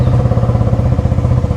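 A motorcycle engine runs with its silencer removed, a loud, rapid, steady exhaust putter close by with no voices.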